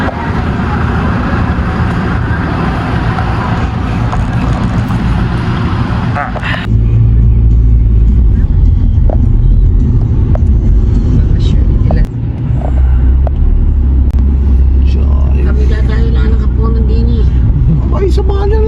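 A car interior rumbles steadily on a drive to an SM mall in Baguio, with low engine and road noise that grows heavier after a door thud partway through; people talk inside.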